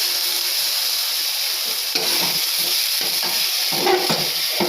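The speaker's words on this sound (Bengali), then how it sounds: "এটা একটু আমি খুব ভালো করে কষিয়ে নেব" Mashed tomato frying in a pan for fish curry, a constant hissing sizzle broken by several stirring scrapes and clatters, nearby and fairly loud, without speech.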